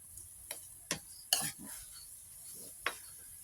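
Frog and banana blossom curry ingredients being mixed in a bowl for a Thai hor mok, heard as a few soft, separate stirring knocks and scrapes over a quiet room hiss.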